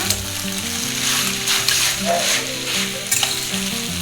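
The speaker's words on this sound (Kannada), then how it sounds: "ಮೀಡಿಯಮ್ ಉರಿ ಇಟ್ಕೊಂಡು ಒಂದು 2 ನಿಮಿಷ ಫ್ರೈ ಮಾಡ್ಕೊಳ್ಳಿ" Masala for veg noodles frying in a pan over medium heat, a loud continuous sizzle with stirring scrapes rising now and then, under steady background music and no talking.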